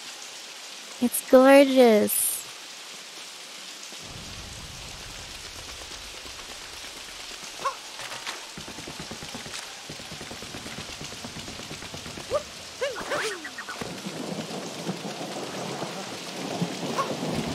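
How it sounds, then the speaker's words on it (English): Rain and rolling thunder in the Super Mario Odyssey video game, a steady hiss of rainfall with occasional rumbles, mixed with game effects and a short burst of music, while a player talks over it. "Dude, look at the rain"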